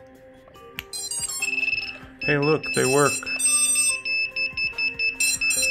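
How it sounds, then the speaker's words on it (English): An FPV drone flight controller beeps repeatedly with its transmitter switched off, giving a series of sharp electronic tones and warbling chirps. A person speaks briefly over the beeping. "It's going to make a lot of beeping noises because I haven't bothered to turn my transmitter on."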